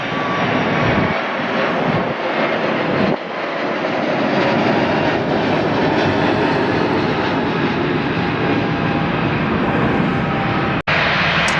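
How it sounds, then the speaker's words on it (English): A jet airliner taking off at Atlanta airport, a loud sustained engine roar that stays broad and steady throughout, heard close and alone with no talking. "Next one taking off will be 915 WN again from going to DCA rather."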